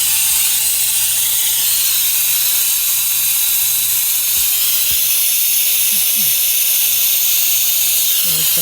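Air compressor in a garage during a 1986 Nissan 200SX S12 Silvia front swap, giving off a steady, loud, unbroken hiss throughout, with faint low clicks and tones beneath.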